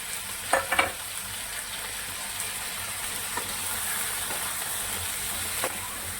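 Potato and ridge gourd fry in a pan with ginger, cumin and green chilli, giving a steady close sizzle with a few sharp spatula scrapes near the start and again later.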